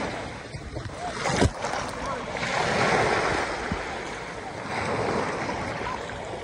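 Ocean waves surge and wash on a beach in a steady, broad rush, with gusts of wind buffeting the microphone and distant voices calling faintly underneath.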